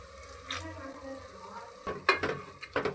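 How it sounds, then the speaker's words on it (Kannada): Ground masala going into a pan of greens and peas for a dill and mint pulao, a soft low sizzle followed by a few sharp clinks and scrapes of stirring near the end. "ಇದಕ್ಕೆ ನಾವು ರುಬ್ಬಿಟ್ಕೊಂಡ ಈ ಮಸಾಲೆ ಹಾಕೊಳ್ತಾ ಇದ್ದೀನಿ"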